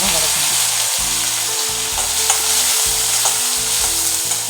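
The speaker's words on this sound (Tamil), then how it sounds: "அரிஞ்சு வச்சுருக்க வெங்காயத்தை போட்டு நாம் கொஞ்சம் நேரம் வதக்கணும்." Chopped onions sizzle and fry in hot oil while being stirred for chicken gravy, a loud continuous crackle with rhythmic scraping stir strokes, close up and without talk.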